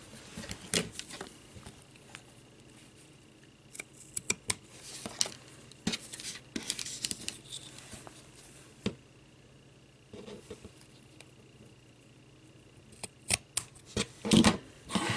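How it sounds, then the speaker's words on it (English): Scissors trim wire ribbon lace in scattered light snips and rustles, close but quiet, separated by pauses, with no talk. "And then just trim it."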